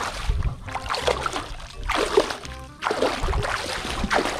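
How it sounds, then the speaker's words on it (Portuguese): A dog swims in a pool, churning and splashing the water in close, irregular bursts with brief quieter gaps between them. "o Bento tá aqui nadando"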